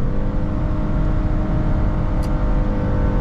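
A 2023 Toyota Corolla with a naturally aspirated 1.5-litre three-cylinder engine accelerates hard in Sport mode, giving a steady, loud, droning engine hum heard from inside the cabin with no talk.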